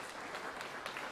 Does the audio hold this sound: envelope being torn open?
no